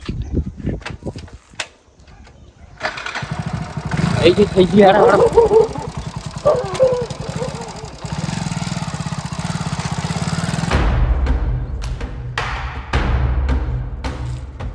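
A motorbike engine fires up and settles into a steady, close, buzzing idle, with a few clicks and short speech before it starts and again after it cuts out.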